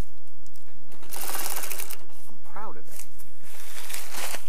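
Sewing machine stitching parachute fabric in a parachute factory, running in short bursts with a rapid mechanical whir. A person talks between and over the bursts.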